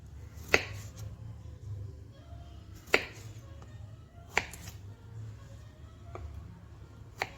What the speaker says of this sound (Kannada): ಇದರಲ್ಲಿ ನಾವು ಆಲೂಗಡ್ಡೆನ ಕಟ್ ಮಾಡಿ ತೊಗೊಳ್ಳೋಣ.